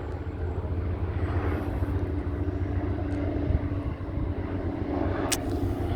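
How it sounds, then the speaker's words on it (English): A helicopter flies over a residential neighborhood in the aftermath of a school shooting, a steady droning rotor and engine roar holding at even loudness throughout, no voices. "I can't tell exactly what kind of helicopter it is"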